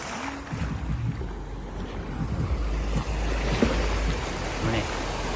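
Surf rolling onto Da Nang beach in Vietnam, a constant roar of waves mixed with wind buffeting the microphone, with a person talking faintly over it.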